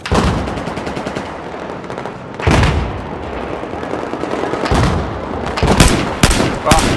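Grenade blasts and rapid gunfire in a full-squad conquest battle game, dense automatic fire throughout with several loud booming bursts, near and heavy, with faint voices under the combat.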